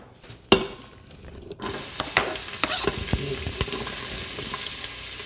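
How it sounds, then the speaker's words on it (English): Chopped onions dropped into hot oil on the sauté setting of a large Instant Pot, bursting into loud sizzling with a sharp hiss that keeps crackling steadily as they are stirred, no one talking. "I'm gonna go ahead and put these onions in"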